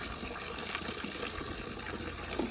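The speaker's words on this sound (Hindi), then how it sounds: "पानी भर रही है लड़की।" Water running into a container during an outdoor trip in Auli, a steady gushing flow with no talk over it.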